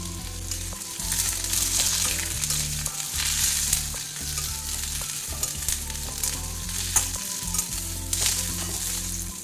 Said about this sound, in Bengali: তেলের মধ্যে দিয়ে দিচ্ছি একটু পাঁচ ফোড়ন পাঁচ ফোড়নটা ভাজা হয়ে গেছে এবার উচ্ছেগুলো দিয়ে দেবো